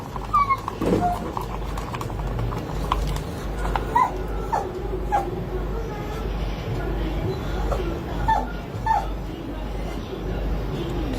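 A dog whimpers and yips in repeated high, thin cries scattered over several seconds, close by, with a steady low hum underneath and a person speaking at times.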